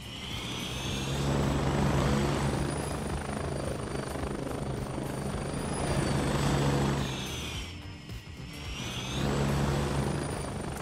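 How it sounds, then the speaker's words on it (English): A synthesized helicopter preset in the Krotos Igniter plugin revs up and down, a steady rotor drone with a high whine that swells, dips briefly near the end, then rises again, loud and without speech. "So yeah, the helicopter sound uses those."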